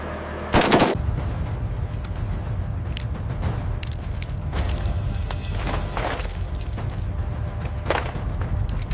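An M240 machine gun fires special ammunition at a ground target, one sharp loud burst opening the stretch, then a run of scattered cracks and thumps over steady rumbling background noise, with no talk.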